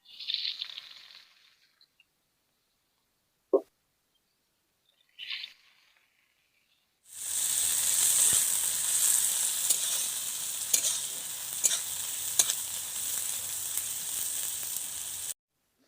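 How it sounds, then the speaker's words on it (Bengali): Onions frying with garam masala in a pan, a few brief stirring knocks and clicks at first, then a loud, steady sizzle with scraping stirs that continues to the end. "পেঁয়াজটা লাল লাল করে ভেজে নিয়েছি"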